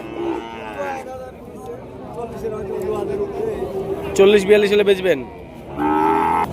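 Cattle bellow with several loud, drawn-out moos at a busy village bull market in Chaubaria, close to the listener. People haggle and chatter around them.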